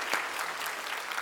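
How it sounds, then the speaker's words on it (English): Round of applause for the presenter closing a forum masterclass session, a brief burst of crowd clapping, steady and fairly soft, with no talk over it. "I think we can all have a round of applause for Sabah for doing this session for us"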